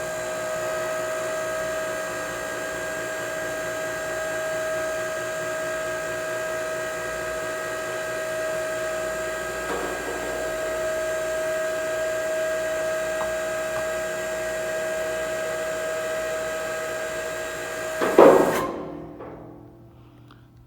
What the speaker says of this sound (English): Now ready to rotate with a slight delay.